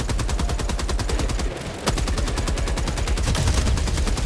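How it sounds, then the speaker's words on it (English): A heavy machine gun turret in Helldivers 2 fires a steady, rapid stream of loud, close shots, pausing for a moment before hammering on without a break. "good thing I got a turret"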